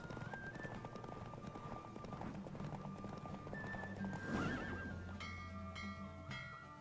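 Horse from The Witcher 3 galloping with steady hoofbeats under game music and effects, then a loud whinny near the middle, with brief in-game voices.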